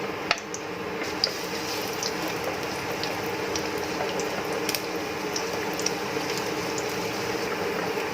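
Garlic sautés in a hot pan, giving a continuous close crackling hiss with scattered tiny pops and no voices.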